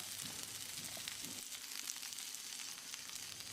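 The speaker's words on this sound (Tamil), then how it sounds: "இந்த கறிவேப்பிலையை கொஞ்சம் மொறுமொறுப்பாக ஆகிற வரைக்கும் வறுத்துக்கலாம்." Curry leaves frying in a pan for curry leaf chutney, giving a steady, close crackling sizzle with bursts of sharper pops, continuous throughout with no talking.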